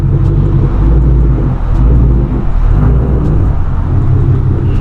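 A car with a newly installed McLeod stainless steel clutch line pulls away in first gear, a loud, close, steady low engine rumble and drivetrain drone heard from inside, with no talking.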